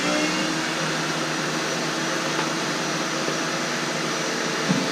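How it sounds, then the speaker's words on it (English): A vacuum cleaner sucks up fiberglass dust while retrofitting a model rocket with BT-60 fiberglass tubing, giving a steady, moderately loud whooshing hum that runs unbroken throughout. "Vacuum that as always."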